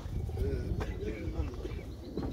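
A competition pigeon in Nevinnomyssk gives soft, low, repeated coos at close range, partly under people talking nearby.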